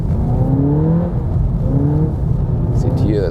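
A 300 hp Seat Leon ST Cupra with all-wheel drive and a DSG gearbox drifts on ice and snow, its engine droning and rising in pitch through the slide, loud and continuous from inside the car.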